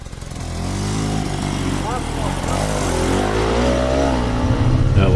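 Two motorcycles climb a tight hill road, their engines rising from a distance into a loud, steady drone that swells as the bikes draw near, with no voices.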